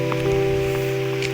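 Heavy rain pours down in Daringbadi, a dense continuous hiss of drops striking surfaces, with a steady droning hum beneath it and no voices.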